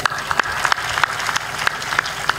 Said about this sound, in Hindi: ये तालियां धीरे क्यों बजाते हो